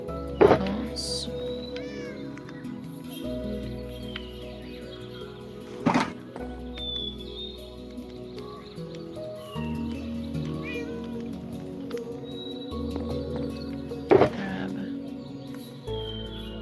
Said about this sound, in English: there are so many cats roaming around now